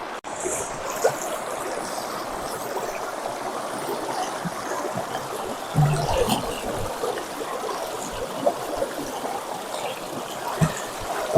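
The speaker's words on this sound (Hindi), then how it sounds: "अब देख लो कितना तेज बहाव है।" Fast-flowing Mandakini river rushing through dense forest, a steady broadband roar of moving water with small splashes and surges, continuous and close throughout.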